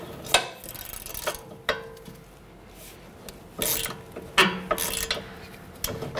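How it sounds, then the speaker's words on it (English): Metallic ratcheting and clicks come from a 17 millimeter wrench working a rusted front strut nut on a 2009-2015 Honda Pilot, in several short separated bursts against quiet garage background. "Slide our 17 millimeter wrench on here. And see if we can go ahead and loosen this."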